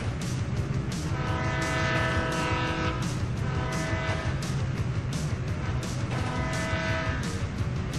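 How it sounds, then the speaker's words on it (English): A train in GTA 5 rumbles past loud and close, its wheels clacking in a steady rhythm over heavy mechanical roar and a sustained horn-like tone, with no talk. "Train ain't stopping here, boys!"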